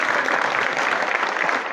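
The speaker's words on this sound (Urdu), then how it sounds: "ٹھیک ہے جی، تالیاں تو بجا دو" Students clapping together in a college lecture hall, a dense burst of applause throughout with no talking over it.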